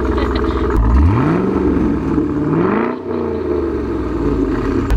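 A C5 Corvette engine with a new exhaust cranks and fires up with a loud, rumbling exhaust, revs once, then settles into a deep, steady idle.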